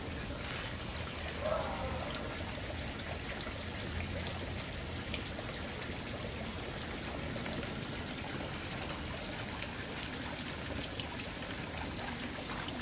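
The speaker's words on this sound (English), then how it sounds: "here's our newest waterfall" Water from a backyard pond waterfall pours and trickles in a steady, faint, continuous wash with no pauses.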